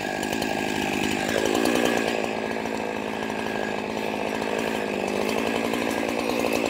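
A chainsaw cuts through chestnut tree branches in an orchard, its engine holding a loud, continuous buzzing whine close by, with the pitch dipping briefly as the chain bites into the wood.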